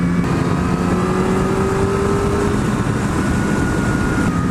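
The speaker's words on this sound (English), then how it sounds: "The bike sounds different. It sounds a little more raspy." A Kawasaki ZX-10R sport motorcycle engine on a ride, a steady loud drone with a raspy tone and a rising pitch under acceleration, heard up close with wind noise and no talking.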